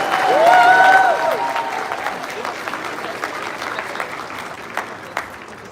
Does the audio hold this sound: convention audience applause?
yes